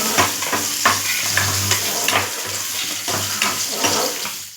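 Payasam cooking for a Vishu meal is stirred continuously in its pot, with repeated scraping strokes and a steady hissing bubbling wash throughout.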